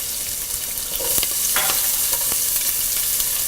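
Onion, curry leaves, ginger and green chili sautéing in a hot pan for upma, a steady close sizzle broken by a few sharp scrape-and-stir clatters of a spoon against the pan, with no one talking.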